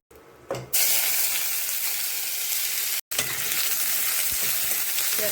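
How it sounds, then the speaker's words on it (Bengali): Onion dropped into hot oil already seasoned with cumin and dried chilli for an egg curry, a sudden loud burst of spitting sizzle that holds as a dense, close, steady hiss, with a brief cut partway and no voices. "পেঁয়াজটা একটু ভেজে নেব"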